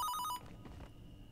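An old-style telephone bell rings in short bursts inside a horror video game map, then cuts off abruptly, leaving a low murmur of ambience.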